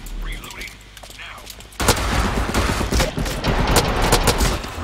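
Rapid gunfire crackles through a crossfire in a competitive shooter video game match, a quiet stretch giving way to loud, dense bursts of overlapping shots that continue to the end.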